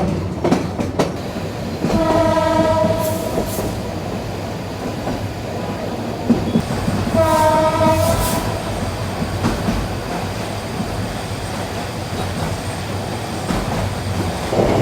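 The Sonar Bangla Express runs on the Dhaka to Chattogram line with a steady rumbling clatter of wheels, broken by two loud horn blasts a few seconds apart.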